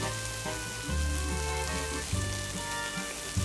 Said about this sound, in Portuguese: E vamos misturar. Deixa refogar bem.